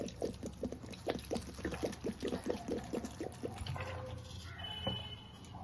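Water is poured into a cooking mixture with mustard oil and salt, making soft, uneven splashes and trickles up close, then settling into a quieter liquid hiss.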